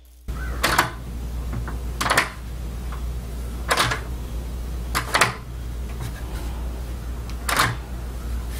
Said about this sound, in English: these are percussion noises, a great door lock